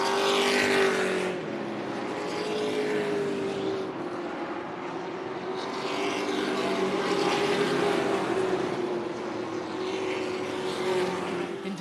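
Race cars roaring around Tucson Speedway, a dense, continuous engine drone from several cars at close to mid distance, loud and steady throughout with no voices.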